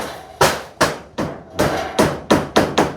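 Eight loud, sharp hammer blows drive nails into corrugated metal roofing, each strike ringing briefly in a steady, slightly uneven rhythm close by.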